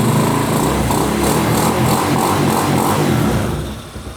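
A cold Honda Hawk 250 motorcycle engine runs loud and close, a steady buzzing drone with mild throttle swells that eases down at the end.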